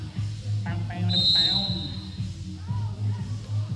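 A referee's whistle sounds once at a roller derby bout, a sharp high blast lasting under a second amid crowd noise, wheel rumble and an announcer's commentary.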